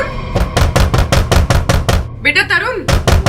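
Rapid repeated knocking on a door in a Hindi crime drama scene, a loud run of sharp raps in steady rhythm, briefly broken by a voice speaking in the middle before the knocking resumes.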